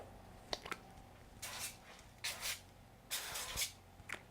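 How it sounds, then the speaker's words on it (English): Quiet, short hissing bursts of cooking spray onto asparagus, about three or four in a row, with a couple of soft clicks between them. "And then I'm going to give it another quick little spray."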